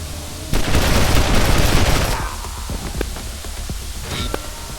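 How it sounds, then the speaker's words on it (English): Heavy machine gun fire in Wasteland 2: a loud sustained burst of rapid rattling shots lasting over a second, then a few scattered single cracks fading into quieter background. "That's how a heavy machine gun works"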